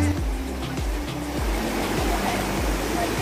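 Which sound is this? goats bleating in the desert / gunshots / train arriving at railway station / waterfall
waterfall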